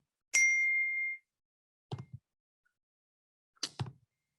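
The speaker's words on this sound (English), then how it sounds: "is anyone else getting a ding?" A bright chat-notification ding from a virtual meeting rings out and holds briefly, followed by two short, dull knocking clicks spaced apart in otherwise silent surroundings.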